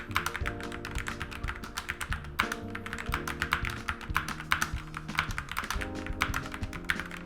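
Quick, steady keystrokes clatter on a SteelSeries Apex Pro TKL keyboard with quieter-than-standard red-style switches, a dense run of close, crisp taps and thocks with no talking.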